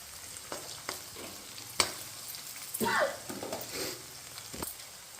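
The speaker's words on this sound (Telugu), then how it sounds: "ఎండుమిరపకాయలు కూడా యాడ్ చేద్దాం" Dried red chillies frying in a pan, giving a steady close sizzle with intermittent stirring scrapes and a few sharp clinks.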